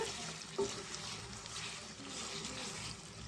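Chicken curry with chili powder and coriander powder stirred in a pan, a soft steady sizzle and scraping texture, faint and continuous.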